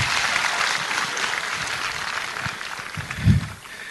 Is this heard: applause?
yes